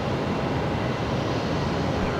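Steady broadband roar of an Emirates airliner at Brisbane Airport, dense and continuous with strong low rumble, consistent throughout with no clear change in level.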